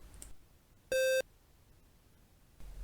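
A single short electronic beep from a BASIC computer program, steady and clean, sounds once against a quiet background.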